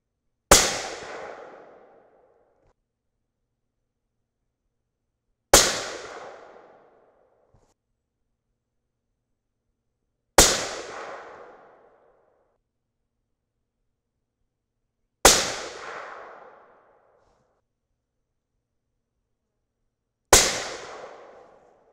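Five suppressed 6.5 Creedmoor rifle shots with 142-grain Sierra Match King loads over H4350 and IMR4451 powder, each a sharp, loud crack with a short fading tail, fired alone at a slow, even pace about five seconds apart.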